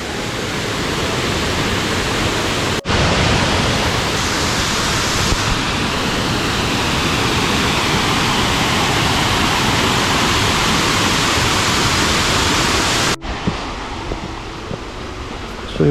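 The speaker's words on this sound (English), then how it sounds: "So this is our second waterfall." Waterfall on a Brecon Beacons trail, a loud broad continuous roar of falling water filling the scene steadily from start to finish, with no voices and only brief bumps from handling.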